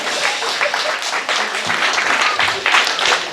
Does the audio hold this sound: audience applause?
yes